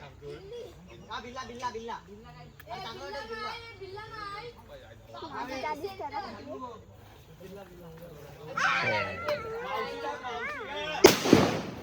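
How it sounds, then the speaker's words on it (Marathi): Firecrackers bursting outdoors during a traditional Waghbaras village festival in Konkan, with a sharp loud crack near the end, after children's voices and talk that run throughout. "इकडे फटाके फोड़ते"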